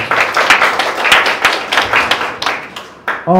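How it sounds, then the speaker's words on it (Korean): Loud, dense applause from a crowd at a public assembly, many overlapping claps, steady throughout, fading briefly near the end. "다시 한번 뜨거운 박수 부탁드립니다."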